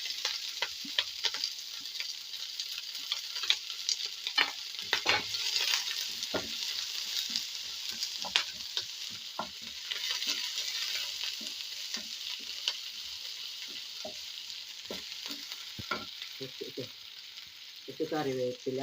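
Onion, ginger and green chili fry in a hot pan with a steady bright sizzle and scattered crackles and stirring scrapes, close and alone without speech, nearly nineteen seconds long.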